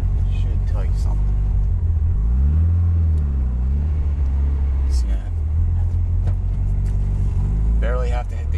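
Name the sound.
Mitsubishi Evo car accelerating from a stop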